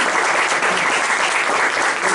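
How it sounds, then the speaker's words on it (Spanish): A church congregation applauds together in sustained, dense clapping that stays steady and loud throughout, with no talking over it. "Le damos una ofrenda de palmas a nuestro buen Dios"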